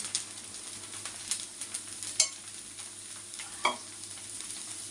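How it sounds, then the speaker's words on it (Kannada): Oil sizzles softly on a pan as a tomato dosa fries, a quiet continuous crackle broken by a few sharp clinks and scrapes of a utensil. "ಈಗ ಎಣ್ಣೆ ಹಾಕೋತಾ ಇದ್ದೀನಿ"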